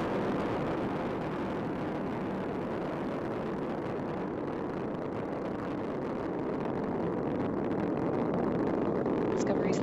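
Space Shuttle Discovery's main engines roar during the STS-131 launch ascent, a continuous broad, distant rumble that holds steady for the whole stretch while a voice talks over it.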